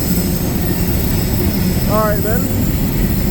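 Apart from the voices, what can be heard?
CSX freight train passing slowly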